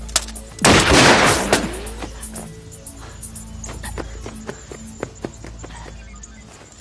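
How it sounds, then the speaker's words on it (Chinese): A single loud pistol shot cracks out during a chase in a kung fu action film, followed by running footsteps and scattered thumps fading away. "谁让你开的枪？"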